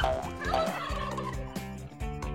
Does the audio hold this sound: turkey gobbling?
yes